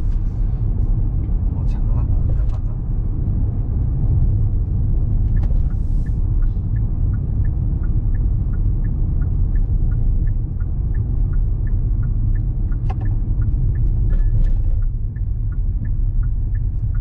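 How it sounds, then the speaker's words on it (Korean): Inside a Hyundai Casper, a nearby bus engine gives a steady, loud low rumble, while the car's turn signal ticks in an even rhythm through most of the stretch. "버스 엔진 소리가 시끄럽죠?"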